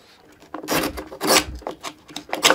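A hand plane shaves across the end grain of a wooden board in a few rasping strokes, each a short scraping burst of tearing fibers, close and distinct.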